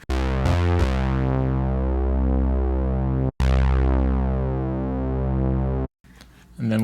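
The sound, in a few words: Serum 2 synth with distortion added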